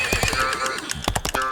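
A horse neighs loudly and close, a shrill whinny followed by a burst of shorter snorting pulses.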